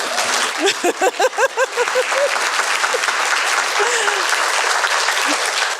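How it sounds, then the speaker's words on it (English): Loud, sustained applause from an audience at a book event celebrating a novel, with a voice speaking over the clapping early on. "I forgot to put notes about applause here."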